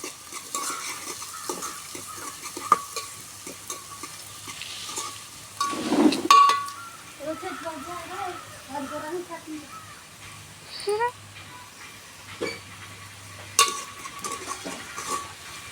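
Onions sizzle in hot oil in a pan for a home-style Telugu raw mango and prawn curry, with stirring scrapes and utensil clinks throughout and a voice talking over the cooking.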